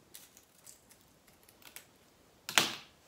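Scissors cutting a leaf shape from crepe paper: a run of faint, quick paper snips followed by one louder, crisp closing cut near the end, close and quiet.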